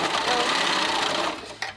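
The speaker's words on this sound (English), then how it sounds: "if you're using your sewing machine, you can use this with that stretch stitch" A sewing machine top-stitches a fabric gaiter with a stretch stitch, giving a steady, close, continuous whirring run that slows near the end before a short click.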